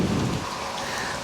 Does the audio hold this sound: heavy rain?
yes